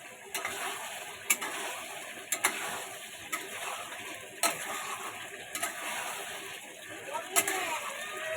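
Potatoes tumble into a pan of frying chicken with a soft sizzle, while a utensil clatters against the pan in irregular, close stirring knocks and a voice speaks over it.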